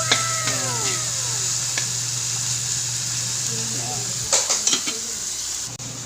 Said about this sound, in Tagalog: Magigisa na tayo guys ng munggo.